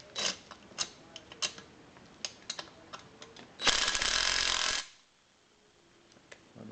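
A ratchet wrench clicks as it runs up 15 mm suspension bolts on a C3, sharp scattered ticks and short bursts close by, then a louder buzzing stretch before fading to quiet with a few last clicks.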